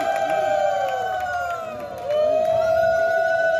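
A crowd at a Jagannath devotional gathering gives a sustained, wavering high ululation (hulahuli), close and loud, with faint clapping under it and a brief dip midway before it swells again.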